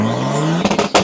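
A car engine revs and drones loudly nearby while another driver drifts, its pitch climbing steadily before breaking into rough, bursting roars near the end, with no talk over it.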